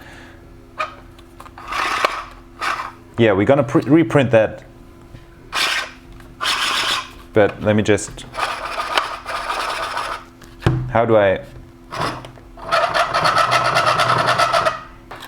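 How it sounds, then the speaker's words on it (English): Scraping, rasping friction from a 3D-printed hand-cranked air blower as it turns, coming in bursts of varying length, close and loud, with someone talking between some of them. "you can hear it, there's a little bit of friction out there"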